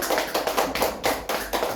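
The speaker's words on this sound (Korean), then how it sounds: "박수하겠습니다." Applause from a church gospel training school gathering: a short burst of steady, close clapping with rhythmic taps, no talking over it.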